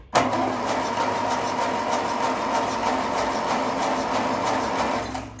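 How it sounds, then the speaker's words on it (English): The engine of a 1957 Ferguson 35 TVO tractor cranks over with a rapid, rhythmic mechanical chug, starting abruptly and holding steady for several seconds before cutting off. "So what I'm doing is, as you see, keep turning the engine over"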